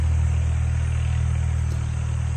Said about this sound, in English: there's an old farm tractor way down there on the road